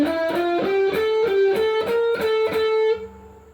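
Electric guitar playing part of a solo, a quick run of distorted picked notes with a rhythmic attack before a final note fades, loud and alone with no talk.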